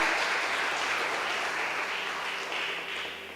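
A church congregation applauds steadily throughout, dense sustained clapping at even loudness that fades slightly toward the end, with no voices on top.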